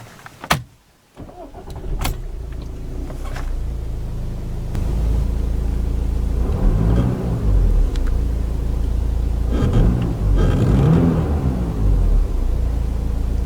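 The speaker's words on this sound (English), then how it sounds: "So let's power on the A5 and see how it sounds." A few clicks, then a 2012 Audi A5 Sportback S Line engine cranks and fires up, settling into a steady, close idle rumble with a couple of brief rev swells.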